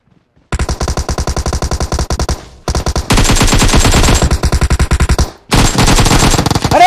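Sustained bursts of M16 automatic rifle fire in the PUBG Mobile battle royale game, with loud rapid shots in long strings broken by brief pauses and then continuing nearly unbroken.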